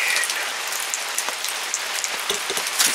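Steady rain falls at night on the Oregon coast near the beach, a dense, even hiss of drops pattering on nearby surfaces with a few sharper individual splashes, continuous and fairly loud throughout.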